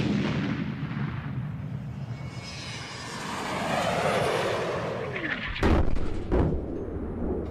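Rocket sleds fire at launch with a loud, roaring rocket blast that swells and sweeps in pitch, then two sharp heavy bangs near the end, with no voices.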